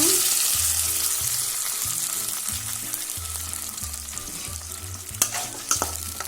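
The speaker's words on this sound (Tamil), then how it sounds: "நம்ம அரைச்சி வச்சிருக்கிற இந்த வெங்காயம், தக்காளி, பச்சை மிளகாவை வானலில் சேர்த்துக்கோங்க" Ground onion, tomato and green chilli paste fries and sizzles steadily in a pan, with repeated stirring scrapes over a constant crackling hiss and a few sharper knocks near the end.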